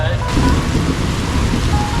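Heavy rain pours steadily during a flood in India, loud and dense from start to finish, a continuous roar with a possible low rumble of thunder beneath.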